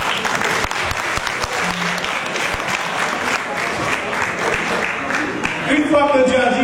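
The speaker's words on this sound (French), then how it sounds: "Acclamez la Seigneur." Sustained applause fills a church during a wedding ceremony, a congregation clapping steadily and fairly loudly throughout, with some voices mixed in toward the end.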